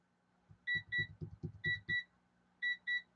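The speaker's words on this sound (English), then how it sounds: "I got a timer going off." A kitchen timer in a sewing room beeps in three pairs of short, clear electronic tones, with low muffled rustling or thumping between the first pairs.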